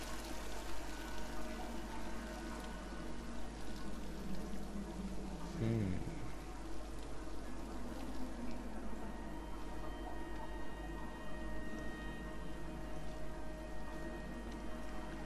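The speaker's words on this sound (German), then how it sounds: "Hier ist ein Fluss." A river in the video game Dear Esther gives a steady, continuous rush of flowing water throughout, with a voice briefly speaking over it.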